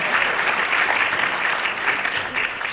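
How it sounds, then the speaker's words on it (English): Round of applause from an audience at a university State of the University address, a continuous dense clapping that holds steady at full strength from start to finish. "could you just give me and my team a round of applause"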